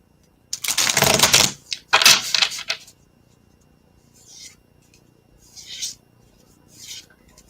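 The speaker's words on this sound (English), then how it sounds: "shuffling for your question" Tarot cards are shuffled in two dense bursts of riffling and rubbing, followed by a few softer, briefer shuffles and card taps with quiet gaps between them.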